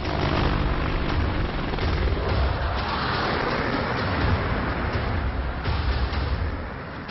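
An Apache attack helicopter during an air force exercise gives a loud, steady, rumbling roar that fills the whole stretch and eases off slightly at the end.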